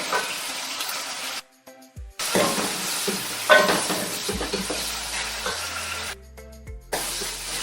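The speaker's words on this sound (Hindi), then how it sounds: "तो हल्का सा इसी तरह गोश्त को थोड़ा सा फ्राई करेंगे, चिकन को।" Chicken pieces frying in a pan with onion, ginger and garlic, a dense steady sizzle with stirring scrapes, broken by two brief quiet gaps, close and fairly loud.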